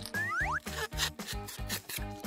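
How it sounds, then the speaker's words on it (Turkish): Rhythmic rasping strokes of sanding, repeated back and forth at a steady pace, with a couple of springy cartoonish whoops mixed in. "Kenara zımparalayalım."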